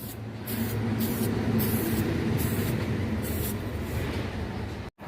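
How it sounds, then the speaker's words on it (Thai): Spray paint hisses steadily from an aerosol can onto an old car tyre, a continuous close rushing spray lasting about five seconds with only slight pulsing and no speech. "จะพ่นสีนะครับ ก็จะพ่นแค่บริเวณอ่า หูเขาหรือขาเขานี้นะครับ"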